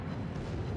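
Battleship salvo of armor-piercing shells in World of Warships, a deep rumbling boom of heavy naval guns filling the moment with sustained low thunder and no talk.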